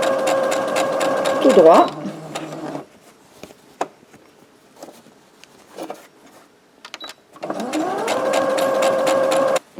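A sewing machine stitches fabric for a lunch bag in two loud whirring runs, one at the start and one near the end, with a quiet pause between them where a voice speaks briefly.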